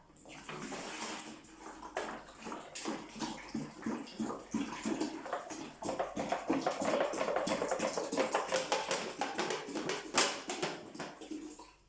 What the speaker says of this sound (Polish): Wylewamy, słuchajcie, wodę.